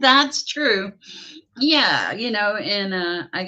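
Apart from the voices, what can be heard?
No everyday noises stand out.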